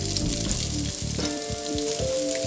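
Shredded cabbage hits hot oil in a pan for Chinese-style egg rolls, giving a loud, dense crackling sizzle with scraping stir strokes and clinks of a utensil against the pan, steady throughout.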